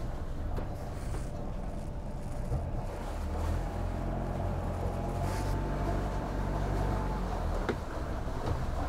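A Dufour 430 sailboat's inboard engine runs steadily in forward gear, a continuous low rumble with light wind noise, no talking.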